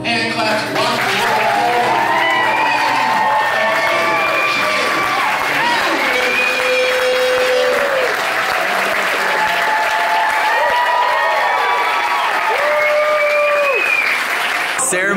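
Wedding guests applaud loudly and continuously after the vows, a dense crowd clapping with voices talking and cheering over it throughout.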